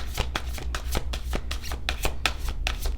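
A new tarot card deck being shuffled by hand, a rapid run of crisp riffling card flicks repeating about every quarter second, close and steady.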